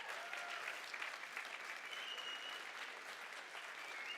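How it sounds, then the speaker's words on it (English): Audience at a startup showcase event applauding the evening's host, a faint, steady, continuous roll of many hands clapping, heard at a distance with no clear voices over it. "Big round of applause for your host tonight, Edward Pollock."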